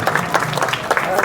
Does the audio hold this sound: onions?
no